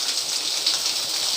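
Rain falls in a dense, steady hiss of close pattering with no break and no voices over it.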